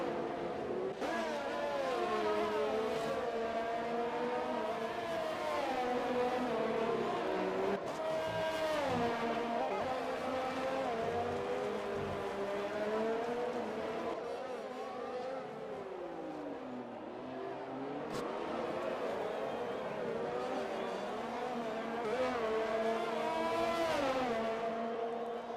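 F1 2020 race cars battle around Monaco in the video game, engines screaming and shifting pitch as one overtakes another, loud and sustained with brief tire squeal and a pass-by swell.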